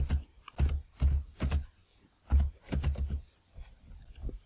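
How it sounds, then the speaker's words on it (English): Typing on a computer keyboard while entering text into an Excel spreadsheet, close clusters of quick keystrokes in short bursts separated by brief pauses. "in this column I will type Changamwe"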